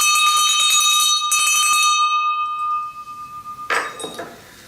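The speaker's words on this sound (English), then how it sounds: "I'm going to use the bell to focus our minds so that we can really concentrate on Mr. Saunders' quote." A school hand bell rings in a couple of quick shaken bursts, then its clear metallic tone lingers and fades, ending with a short rustle of handling; no voices.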